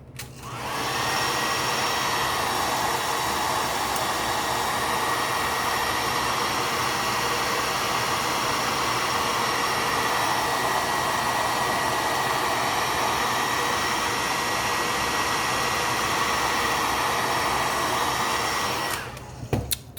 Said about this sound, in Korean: 드라이 소리 나는 거는